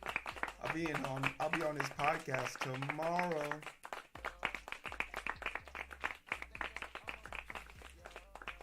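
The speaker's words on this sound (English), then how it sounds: "Clap it up." Someone talks briefly on a programming live stream, then a few seconds of quiet, irregular hand clapping follow, faint and close rather than a full crowd.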